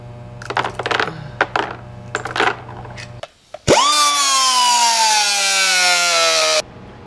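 An impact wrench at medium setting tightens ring gear bolts on a 1980 Monte Carlo G-body posi-traction differential; light metallic clinks and taps come first, then one loud, steady, droning burst of about three seconds.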